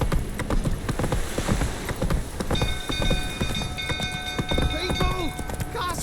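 Horse hooves clip-clop in a steady trotting rhythm in The Witcher 3 video game, close and prominent, with rain-like hiss, voices talking and brief tonal sounds layered over the hoofbeats.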